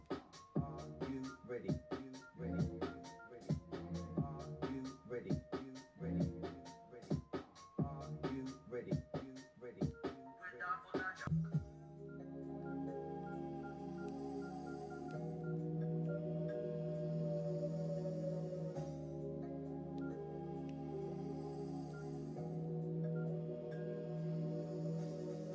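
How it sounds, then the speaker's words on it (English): Mobile game audio from a Nokia E50 running Grey's Anatomy and Kim Possible titles: a fast, choppy run of beeping tones and blips, then a steadier electronic music loop with held notes, moderately loud and without talk. "Here's some footage of me playing Grey's Anatomy and then also Kim Possible."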